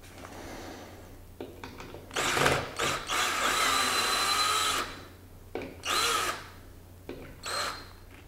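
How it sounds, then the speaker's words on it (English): A power drill bores a pilot hole for a bolt while a removable balcony hand rail track is being fitted. It comes as several close, loud bursts of whirring, separated by short pauses. "I'm going to drill a pilot hole and then we'll run the bolt in."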